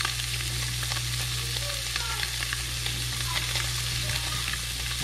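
Hybrid striped bass fries in oil outdoors with a dense, steady crackling sizzle, sprinkled with small pops and spits, over a constant low hum.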